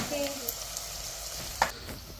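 Onions fry in a clay pot for fish curry, a soft, steady sizzle with faint stirring scrapes and a light clink, quiet and close without speech.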